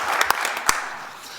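A small audience at a Warren County Fiscal Court meeting gives a brief, sparse round of applause, a few sharp claps standing out before it fades.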